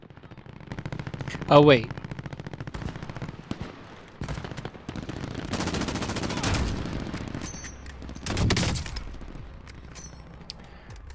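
Rapid automatic gunfire from a gun in Call of Duty Warzone, several loud bursts and single shots spread across the clip, with brief talk mixed in.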